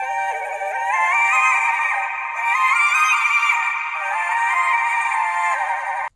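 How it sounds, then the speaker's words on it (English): A high, sustained synthesized choir pad in a hip-hop type beat, held chords shifting a few times, loud and alone with no voices or drums. "Okay, so it's like a high choir sound,"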